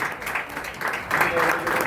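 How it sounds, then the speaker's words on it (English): An audience at an Independence Day event claps steadily throughout, a dense patter of applause with voices mixed in. "Huge round of applause to Vedang."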